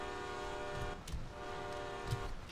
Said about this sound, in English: And that's a bloody loud horn as well.